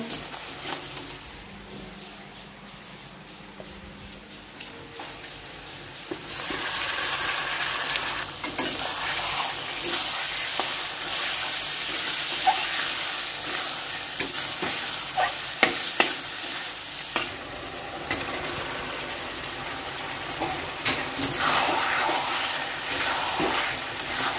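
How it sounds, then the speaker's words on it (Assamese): Potato and ash gourd fry in a pan, a close, steady sizzle that grows louder midway, with scattered scrapes and clicks of stirring and no voices. "আলু আৰু চাল কোমোৰা ভাজি কৰোঁ"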